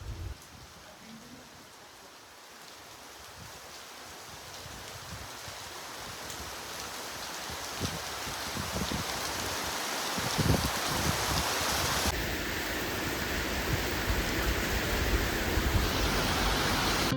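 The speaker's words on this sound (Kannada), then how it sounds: "ಮನೆಗೆ ಬಂದಿದ ತಕ್ಷಣ ತುಂಬಾ ಜೋರು ಮಳೆ ಸ್ಟಾರ್ಟ್ ಆಗೋಯಿತು" Heavy rain roars in a steady, dense hiss that slowly swells louder, with no voices over it.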